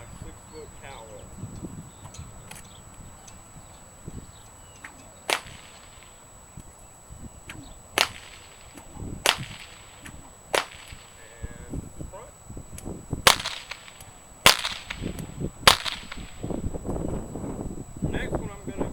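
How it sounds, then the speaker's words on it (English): A 6-foot cow whip snaps out a series of sharp cattleman's cracks, about eight separate loud pops at irregular intervals with soft rustling and movement between them, outdoors. "here's the cattleman's crack with my 6-foot cow whip"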